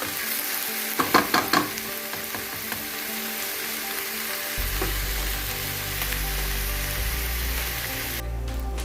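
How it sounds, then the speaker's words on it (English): Ground beef frying in a pan for nachos, a dense continuous sizzle with a quick cluster of clatters early on and a low hum rising partway through, close, with no talking. "it's been around 6 to 8 minutes since I started cooking the ground beef"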